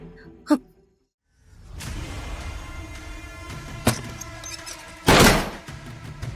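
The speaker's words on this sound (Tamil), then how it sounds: "கதவை ஏன் இப்படி சத்தமா சாத்துற?" A sharp knock, a pause, then shuffling and a loud bang near the end like a door slammed shut nearby, with a lighter thud before it.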